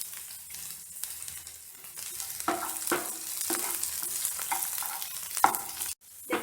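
Schezwan rice frying in a pan: a hissing sizzle with rhythmic scrapes and thumps of a spatula tossing the rice, close and moderately loud, briefly dropping out near the end, no speech.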